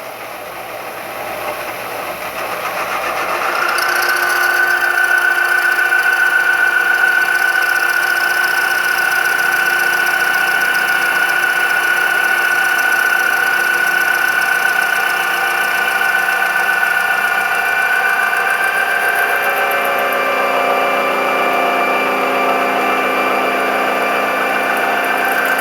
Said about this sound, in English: Next, I'm going to use my power drive, but I'm going to put it in lower gear so it's slower.